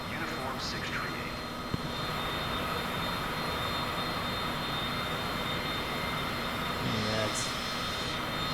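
Steady airliner engine drone in a flight simulator game on approach to land at runway 15, a continuous broad roar throughout with faint radio-like chatter tones over it.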